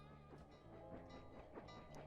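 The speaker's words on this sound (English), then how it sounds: "that was a train" A train rolls past in a stealth platformer game, a faint, steady rumble with tonal hum and rhythmic clickety-clack pulses over about two seconds.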